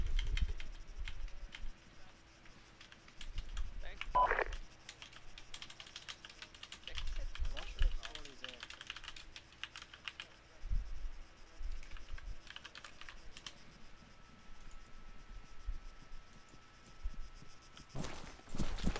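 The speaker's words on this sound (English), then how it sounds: "Busy typing a message" Keys clatter on a computer keyboard as a message is typed during an Arma 3 session, with irregular bursts of clicks separated by pauses and a faint hum beneath, while someone speaks briefly.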